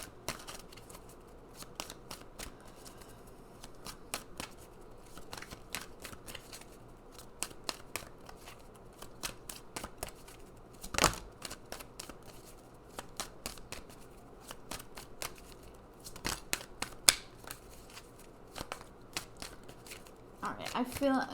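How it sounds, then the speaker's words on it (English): Oracle cards are shuffled and pulled in quick riffling bursts and soft slaps, a faint, irregular papery flutter with sharper snaps here and there, while a person talks quietly throughout. "let's pull some more cards."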